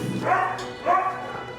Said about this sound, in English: with a wag and a smile is Rosie, a 10-month-old poodle mix